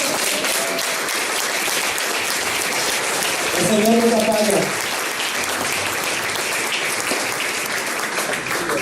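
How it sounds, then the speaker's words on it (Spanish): A church congregation at a Sunday service breaks into sustained, dense applause filling the whole stretch, with a voice briefly speaking over it midway. "Fuerte aplauso"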